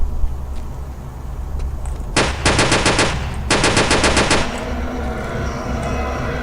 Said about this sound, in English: Might as well use all my Thompson up. It's the most powerful gun I got.